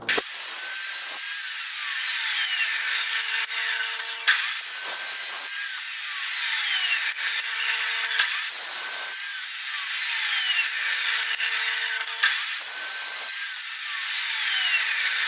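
A milling machine cuts an aluminum piece with a loud, steady, bright metallic whine. Its tone dips briefly about every four seconds as the cutter passes along the work, with no voices.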